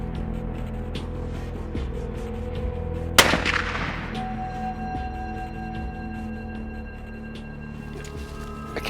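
A dart gun fired at a leopard near a bait site at night: one sharp, loud crack partway through, ringing briefly over a quiet bush background.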